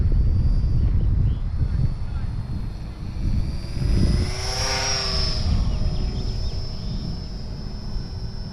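A WLToys XK A250 BF-109 RC model plane whines overhead above a soccer field, its buzzing propeller pitch rising and falling as it passes close and then recedes, over a background rumble.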